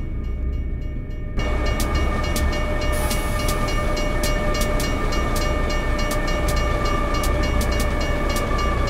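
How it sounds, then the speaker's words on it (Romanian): A train in a video game set on a Romanian map runs steadily and loudly, its continuous rumble and rhythmic rail clicks filling the whole stretch without talk. "Fii atent că s-a oprit trenul"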